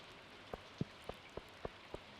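Green rain falls in the video game Stardew Valley as a quiet, evenly spaced series of soft drip-like ticks, about six in two seconds, with no voices.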